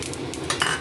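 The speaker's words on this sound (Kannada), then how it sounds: "ಈ ಸೈಡಲ್ಲಿ ನಾನೀಗ ಒಗ್ಗರಣೆಗೆ ಇಡ್ತಾ ಇದ್ದೇನೆ." Oil with chana dal and mustard seeds sizzles in a pan for tempering, a brief, close, dense crackling hiss with a couple of sharper pops and no talk.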